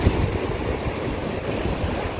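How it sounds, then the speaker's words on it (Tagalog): Steady rushing surf of ocean waves with low rumbling wash and wind noise, continuous and fairly close, no voices. "Medyo malalaki pang alon, mahirap ang tawirin."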